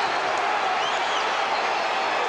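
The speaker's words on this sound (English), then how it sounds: "and they love it, the crowd now" A boxing arena crowd roars for Chris Eubank at his 1993 bout with Lindell Holmes, a steady, dense wash of cheering and applause from a large audience, constant and moderately loud with no single voice standing out.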